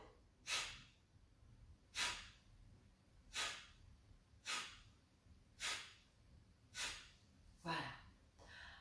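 Seven forceful nasal exhalations in a steady rhythm, roughly one every 1.2 seconds, each a short loud breathy rush during a pranayama breathing exercise, close to the microphone with quiet room tone between them.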